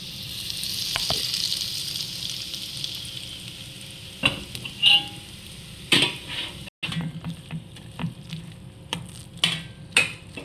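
Ingredients frying and being stirred in a pan while making nattu sakarai laddu, a soft sizzle fading under intermittent scraping and clinking stirs, close and moderately loud.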